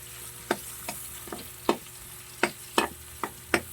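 Sliced onions fry in a pan beside bitter gourd, a soft sizzle punctuated by about eight sharp, evenly spaced scraping strokes of a utensil stirring them, with no talking.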